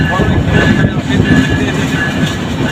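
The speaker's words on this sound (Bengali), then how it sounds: "দুই নম্বর প্ল্যাটফর্মে দেখতে পাবো মধুমতি এক্সপ্রেস ট্রেন" Train at Rajbari railway station, a loud, continuous rumble with metallic rail noise and a faint sustained whine, close by and steady throughout.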